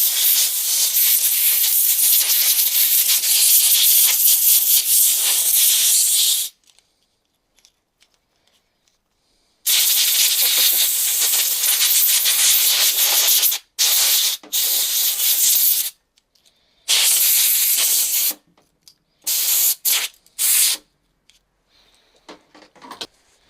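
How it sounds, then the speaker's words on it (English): Compressed air and spray hiss loudly in several bursts while cleaning out a jammed Fiat Ducato 2.3 starter motor, one long blast, then a series of shorter intermittent blasts separated by silence. "I'm going to spray it, we'll blow it now."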